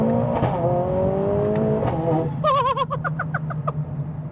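A Mercedes-AMG A45S tuned to Stage 2 at about 500 bhp revs hard. The engine note climbs in pitch, then warbles through rapid rises and falls with crackling exhaust snaps, loud and close.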